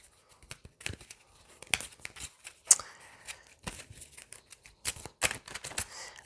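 Cards being shuffled and drawn from a deck, a run of quick crisp flicks and snaps in irregular bursts, close and fairly quiet, with no talking.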